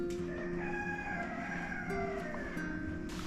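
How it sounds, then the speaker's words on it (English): Roosters crowing at night around midnight at a wild campsite, faint and distant, with drawn-out calls over a low steady ambient hum and no talk. "you can just hear the roosters."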